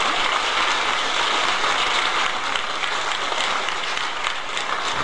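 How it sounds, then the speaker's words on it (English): Dense, steady applause from a large crowd, loud and sustained throughout, with no voices rising above it. "give her a round of applause."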